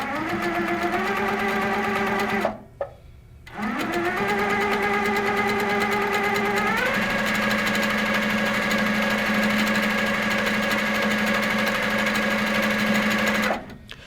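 A sewing machine runs in steady, loud stitching bursts while free-motion quilting a feather pattern, with a brief pause before starting again and small shifts in speed.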